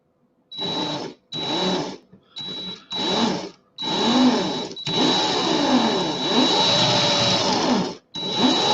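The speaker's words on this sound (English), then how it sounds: "I can put the drill on a little faster." A power drill whirs in short bursts, then runs in one long sustained whine with a high steady tone, close and loud, before stopping and restarting briefly.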